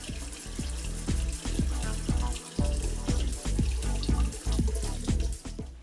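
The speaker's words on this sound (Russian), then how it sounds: "После заточки опять же тщательно смываю полировочную пасту." Tap water runs and splashes as polishing paste is rinsed off freshly sharpened razor blades, with a steady stream broken by repeated, rhythmic gurgling splashes.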